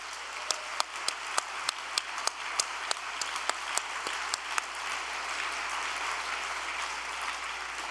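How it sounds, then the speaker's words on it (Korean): An audience at a religious address applauds, opening with a few sharp individual claps that quickly build into a steady, dense wash of clapping heard from some distance. "그들을 위해서 박수를 보내주십시오"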